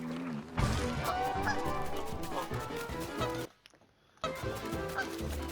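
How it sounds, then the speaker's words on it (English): Honking from a moose-goose form in the Don't Starve Together video game, repeated goose-like honks over game sound, broken by a brief near-silent gap before resuming. "we're going to use a secret moose goose form"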